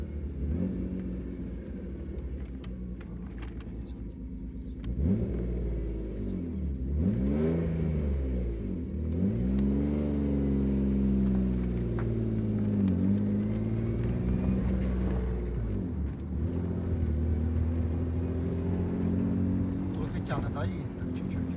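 A car engine revs up and down repeatedly, rising and falling in pitch, loud and close, with a voice speaking over the rumble at times.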